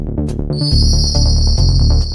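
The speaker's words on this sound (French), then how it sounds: "C'est une alarme." A high, steady electronic alarm tone starts and holds, sounding over a repeating low rhythmic thumping beat.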